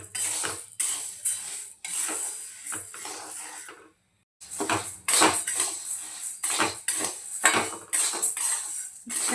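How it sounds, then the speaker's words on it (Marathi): Wheat grains dry-roasting in a kadhai, with loud, close, repeated scraping and rattling strokes from stirring and a short pause partway through. "याला आपण कढईमध्ये टाकून याला छान पद्धतीने भाजून घेऊया."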